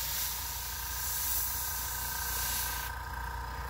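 Airbrush hissing steadily as it sprays paint onto custom shoes, a continuous close, even spray that drops slightly in brightness near the end.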